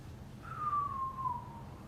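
A person whistles a single sustained, slightly falling note during a slow-paced full-body workout, heard alone and clearly above a quiet background hum.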